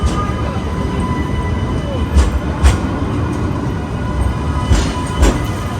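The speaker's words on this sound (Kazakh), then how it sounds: "Трамвай кетіп бара жатыр." Rumbling tram pulling away under a busy Istanbul street hum near Gülhane Park, with a few sharp metallic clanks and squeals along the way.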